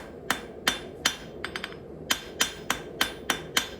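Steel pricking iron being forged with a hammer: a steady run of sharp, ringing metal strikes about every third of a second, close and loud, with a quick double tap in the middle.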